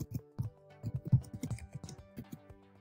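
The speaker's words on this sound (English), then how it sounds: "I want to use the tab key so that my cursor can jump, and then I want to type campus two" Keystrokes on a computer keyboard entering short words with a tab key press between them, a quick, uneven run of light clicks close by with no talking.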